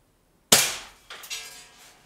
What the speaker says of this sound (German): Ich werde auf die linke Seite schießen.